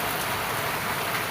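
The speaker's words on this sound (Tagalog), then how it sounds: "sana po ay wag na po sanang lumakas yung ulan. Sana tumigil na rin po yung ulan" Rain falls steadily on a calamansi and papaya farm, a dense, even hiss of drops on surfaces and foliage, heard alone at moderate loudness.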